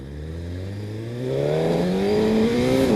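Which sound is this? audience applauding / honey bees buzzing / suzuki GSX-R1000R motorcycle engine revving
suzuki GSX-R1000R motorcycle engine revving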